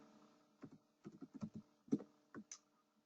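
Someone types on a computer keyboard, a few quiet, irregular key clicks in short clusters against near silence.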